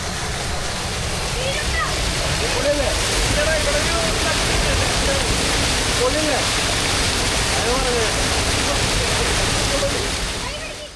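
A small stream runs between rubber plantations near Athirappilly, a loud, dense, steady rush of flowing water close by, with faint voices mixed into the wash.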